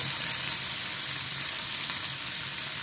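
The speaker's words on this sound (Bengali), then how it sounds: "একটু হালকা ফ্লেভারটা ভালো আসার জন্য আমি জাস্ট একটু ভেজে নেব, কালারটা চেঞ্জ করে নেব।" Prawns fry in a pan for a Bengali prawn and zucchini dish, giving a steady, close, even sizzle with no talking.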